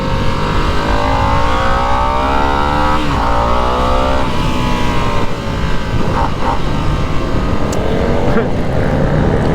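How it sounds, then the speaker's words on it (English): A 2025 Harley-Davidson Nightster motorcycle engine revs hard and loud toward 9,000-10,000 RPM, pitch climbing and dropping in repeated sweeps with a steady roaring drone throughout. "You can just rev the heck out of them."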